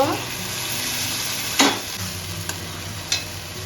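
Onions fry and get stirred in a pan while tomato paste goes in for a fenugreek chicken curry, giving a steady close sizzle broken by three brief scraping stirs.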